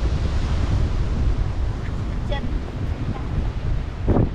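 Sea waves wash onto a white sand beach at Luanda, Angola, a steady broad roar mixed with wind buffeting the microphone, continuous and close throughout.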